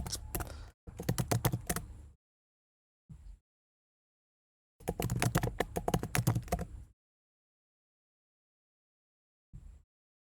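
Member number typed on a computer keyboard: two dense bursts of rapid close key clicks, each followed by a few isolated taps, separated by silence.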